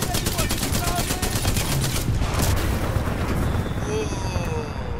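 A thermite launcher fires in the video game Titanfall 2, giving rapid repeated blasts and a roaring rush of noise, with a voice talking over it.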